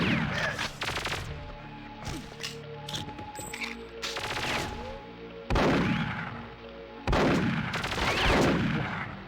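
Gunfire in Perfect Dark, with rapid volleys of sharp shots followed by a couple of heavier, booming blasts that ring out and decay, loud and close, with no talking.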